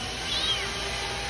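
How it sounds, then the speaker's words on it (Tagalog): A new blue-eyed house cat gives a single short, thin meow, faint against a steady background hiss. "May bagong pusa naman ni Diboy"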